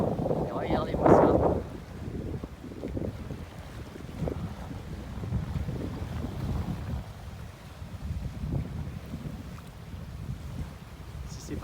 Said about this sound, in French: Voilà notre arrivée sur Marie-Galante à la voile.